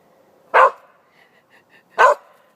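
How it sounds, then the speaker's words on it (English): A pet dog named Pep, agitated at something unseen, lets out two sharp, loud barks about a second and a half apart, with faint high chirps in the quiet gap between them. "My dog is so freaking out right now."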